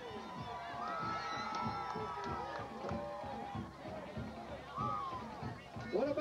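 A high school football playoff crowd cheers after a win, a broad roar of voices and whoops heard from a distance with shouts and chatter mixed in throughout.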